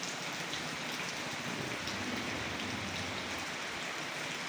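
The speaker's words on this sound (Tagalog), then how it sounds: "Tapos umuulan pa." Steady rain falls in Dulag, a continuous even wash of drops with no voices, close and moderately loud throughout.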